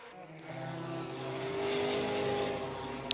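A Nissan 300 ZX race car at Le Mans in 1994 drones steadily as it comes into the pits, its engine note holding and rising slightly, heard at a moderate distance with no talk.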